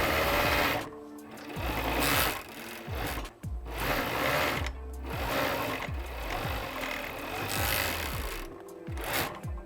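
A sewing machine hems the top of a reusable fabric gift bag in loud bursts of rapid stitching, stopping and starting several times with brief pauses between runs.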